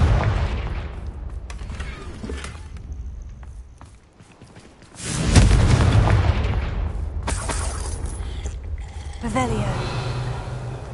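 Confringo spell blast in Hogwarts Legacy, a loud booming explosion after a brief lull, followed by sustained rumbling and a second, softer burst, with game voices around it.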